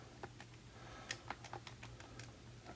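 Quick, light key taps on a calculator while numbers are entered for a geometry problem, a faint, irregular run of small clicks with a low steady hum underneath.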